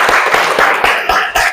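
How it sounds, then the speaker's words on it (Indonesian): A short burst of clapping from a small group of students in a classroom, uneven claps fading out after a second or so. "Kita beri tepuk tangan untuk kedua teman kalian."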